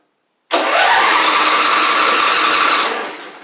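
A Husqvarna Z4822 zero-turn mower engine cranks and catches, roaring steadily at close range for nearly three seconds before starting to fade, with no speech.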